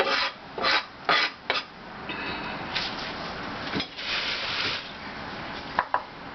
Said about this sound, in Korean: 양파를 잘게 썰어서